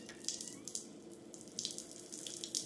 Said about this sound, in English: Even though it sounds like there's a leak somewhere.